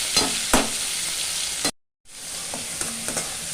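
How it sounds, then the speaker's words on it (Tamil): Onions and tomatoes sizzle steadily in a pan while being sautéed for a vatha kuzhambu, with a few clanks of a stirring spoon; the sizzle breaks off briefly and then resumes. "வெங்காயம் வதங்கிச்சு பாருங்கள் தக்காளி பழம் வதக்கட்டோமா"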